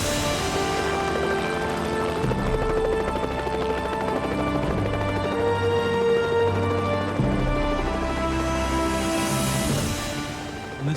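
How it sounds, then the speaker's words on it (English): A helicopter drones steadily with a low, throbbing rotor pulse that stays loud and close throughout, swelling slightly as it draws nearer over snowy mountain peaks. "Moments later, I heard that helicopter approach."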